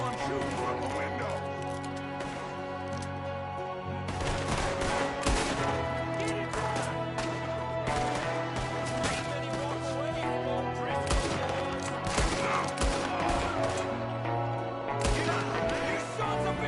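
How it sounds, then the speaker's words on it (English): A shootout in a cowboy video game: rapid, dense gunfire that keeps going without a break, layered over a steady game soundtrack with voices shouting now and then. "Everyone shoot from the window."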